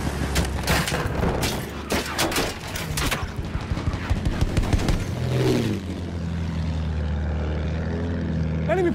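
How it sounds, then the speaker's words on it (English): Enemy propeller aircraft in the Battlefield 1 war game passes overhead with a loud droning engine, amid a dense burst of gunfire and booms early on, then a steadier hum with rising tones later; shouted voices are faintly mixed in. "An enemy plane!"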